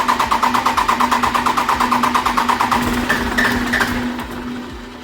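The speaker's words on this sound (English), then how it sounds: "he has a massive exhaust leak right there" A 12-valve Cummins diesel with injectors just done runs close by with a rapid, steady pulsing chatter from a massive exhaust leak, later easing slightly as a brief higher tone cuts in.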